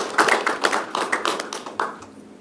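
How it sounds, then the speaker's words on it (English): Applause rings out at a school board meeting, a dense patter of clapping hands that starts strong and gradually thins and fades toward the end. "please give her a round of applause"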